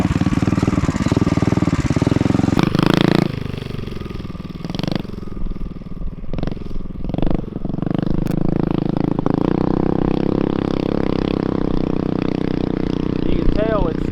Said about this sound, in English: You can tell it's starved for fuel because it's not just wanting to rev out, and that engine is pretty hopped up.